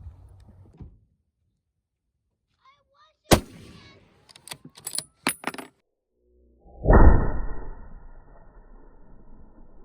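Savage 110 High Country rifle in 30-06 firing outdoors: one sharp loud crack, then a cluster of shorter impulsive bangs and clicks, followed by a booming report with a trailing rumble and echo.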